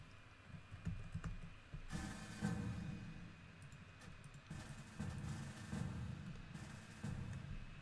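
Computer keyboard hotkeys pressed in turn across several game windows during ISBoxer multiboxing, heard as bursts of quick, close key clatter over a steady low background hum, with no talking.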